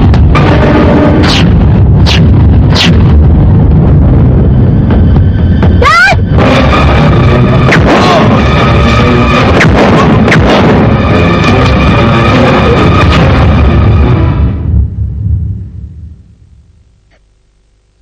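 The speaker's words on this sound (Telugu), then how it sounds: "ఇంకో నిమిషంలో ఫ్లైట్ పేలే చప్పుడు నీకు" Movie sound effect of an airplane blowing up: a few sharp bursts, then a sustained loud roaring blast with crackling debris that rumbles on for over ten seconds before fading out.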